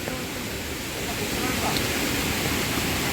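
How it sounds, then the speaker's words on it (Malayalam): Fast-flowing stream water coming down from the hills rushes in a dense, constant roar, close and loud, steady throughout and growing slightly fuller midway, with no talk heard. "നല്ല ഒഴുക്കുള്ള വെള്ളം"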